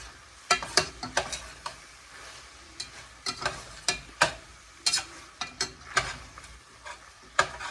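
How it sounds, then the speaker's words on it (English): A spoon stirs a pot of chili dusted with seasoning powder, giving a run of sharp scraping clinks against the pot in irregular bursts with brief pauses between, close up and fairly quiet with no talking. "Quite a bit of powder got on it, so we're going to continue mixing"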